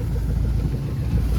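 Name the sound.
tractor engine running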